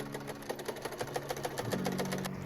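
Sewing machine running straight stitches across fabric side panels for a fall dress, a steady rapid needle chatter at an even pace, close and fairly quiet, with no voices.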